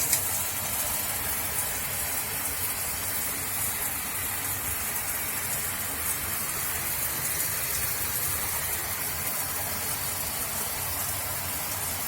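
Grohe shower head running in normal rain mode, giving a constant close spray of water like heavy rain on a surface, even in level throughout and without talk.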